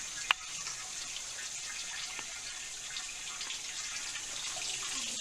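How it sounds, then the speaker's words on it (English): Soft steady trickle of garden irrigation water flowing, gentle and continuous, with a single brief click near the start. "That noise you hear just happens to be the water irrigation"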